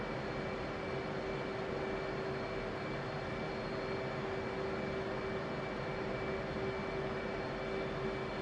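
Jet engines of an F/A-18 in the DCS flight simulator roar as a dense, steady, continuous wash of noise with a faint tonal whine, unchanging throughout.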